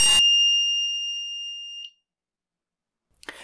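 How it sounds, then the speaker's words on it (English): A steady high-pitched electronic buzzer tone from an Arduino countdown timer alarm sounds continuously for about two seconds, then cuts off into silence before a faint clatter. "wait for it to count down to zero, at which point the alarm will sound."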